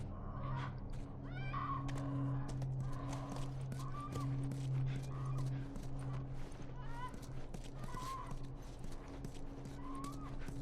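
A horse in The Last of Us video game: faint snorts and whinnies with soft hoof shuffles, repeated a few times over a low droning ambience, quiet and somewhat distant.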